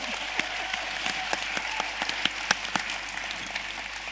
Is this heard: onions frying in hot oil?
no